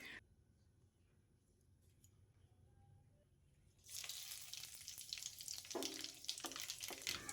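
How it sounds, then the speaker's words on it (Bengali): Bay leaf, nigella seeds and dry red chilli dropped into hot mustard oil already used for frying bori, a quiet start then a sudden loud, continuous sizzle and crackle close by. "এবার ওই একই তেলের মধ্যে, বড়ি ভাজা তেলের মধ্যেই দিয়ে দেব ফোড়ন।"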